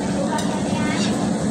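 Steady dense sizzle of eggplant frying in hot oil for a Szechuan eggplant dish with oyster sauce, loud and continuous throughout.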